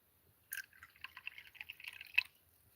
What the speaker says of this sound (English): allow me a moment to pour a little coffee